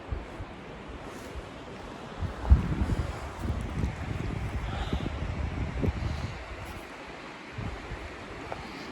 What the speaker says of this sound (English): it's a pretty windy night too